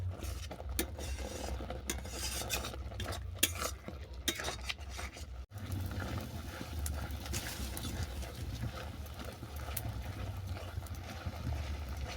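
Sandesh mixture made with dry fruits and shankhalu being stirred in a pan, scraping and clinking strokes in a busy uneven rhythm early on, then a softer continuous scraping with low background hum, close and fairly faint.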